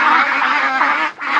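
A flock of Van Dinh grass ducks at a farm shelter hut, quacking loudly and close in a near-continuous overlapping chorus with a brief lull just before the end.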